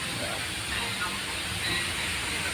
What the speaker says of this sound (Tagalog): Deep fry natin